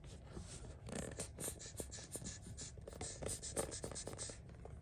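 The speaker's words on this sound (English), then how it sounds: "You can hear the air being forced out of them because it's so girthy." Air squeezing out of the thick plastic wings of a Bandai King Ghidorah toy, a quiet, close rubbing and hissing scrape with small irregular squeaks as the bulky pieces are pressed and moved.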